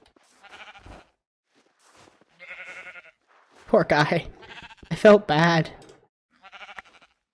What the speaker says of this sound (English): I just saw a sheep fall into the powder still